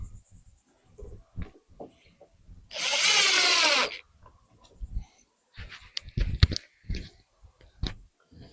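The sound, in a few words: power drill driving screws into wood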